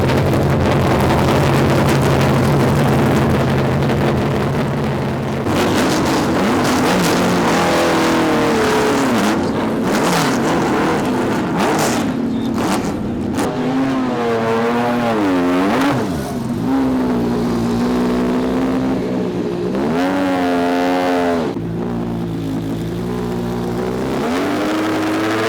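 Vintage race cars roar around a track, their engines loud and close, revving up and down with rising and falling pitch as they accelerate and pass in turn.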